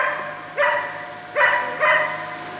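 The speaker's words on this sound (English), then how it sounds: "Background, you can hear the dogs." Neighbors' dogs across the road bark in three distinct drawn-out barks at a moderate distance, over a steady hum outside a mobile home.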